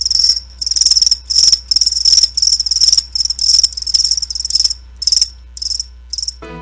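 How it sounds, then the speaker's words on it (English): A loud, close chorus of crickets trills in steady repeated pulses, alone with no voices, used as a sound effect in a web-design radio ad aired during a hockey game broadcast. "That's right, crickets."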